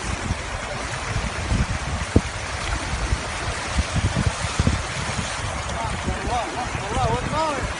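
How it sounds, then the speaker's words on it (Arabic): Flowing river water in Tihama of Bani Shahr, a steady broadband rush, with voices talking over it and a few brief sharp knocks. "نهر والله نهر."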